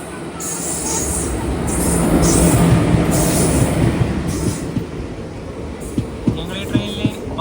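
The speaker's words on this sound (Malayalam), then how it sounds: "തിരുച്ചെന്തൂരിൽ നിന്ന് പാലക്കാടേക്ക് പോകുന്ന എക്സ്പ്രസ് ഇപ്പം ഇവിടെ എത്തും" An express train from Tiruchendur to Palakkad pulls into Oddanchatram station, a steady rumble of wagons and wheels with a few sharp clanks near the end, while people talk nearby.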